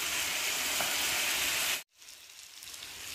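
Fried eggs dropped into a hot sizzling pan: a loud steady frying hiss that cuts out abruptly for a moment, then resumes quieter and more subdued, close up with no talking.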